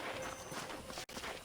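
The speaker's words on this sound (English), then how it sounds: "let's see if you can still ride a horse." Rapid, muffled hoofbeats from a horse being ridden in Red Dead Redemption, quiet and continuous under a dense wash of background noise, with a brief break near the end.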